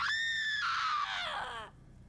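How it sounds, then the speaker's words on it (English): A single person lets out a long, high-pitched scream into a recorder. It rises sharply, wavers, then slides downward before cutting off into quiet. The voice is loud and close. "Could you scream into this cursed recorder?"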